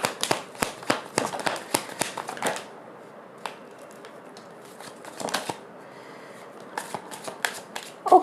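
A deck of tarot cards is riffled and shuffled close up in a quick flurry of crisp flicks and snaps. After a quiet gap, a few more scattered shuffles follow, with no talking.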